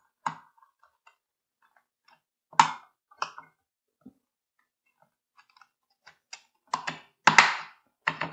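Keycaps being pressed back onto a restored Aldi Commodore 64 keyboard, heard as a few sharp plastic clicks and snaps spaced through quiet, with a denser cluster of clicks near the end.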